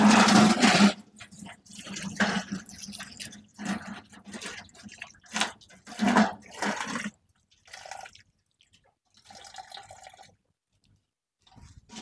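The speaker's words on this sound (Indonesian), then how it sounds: "tinggal kita siram lagi ya" Water poured onto the soil of a bonsai plant, bursts of splashing and trickling that stop and start, then fade to faint drips and quiet gaps.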